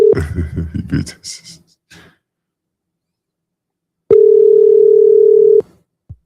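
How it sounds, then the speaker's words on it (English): A phone call tone sounds as one steady, loud electronic note lasting about a second and a half, following a stretch of speech and a short silence. "Let me call this guy one last time before we end the streaming."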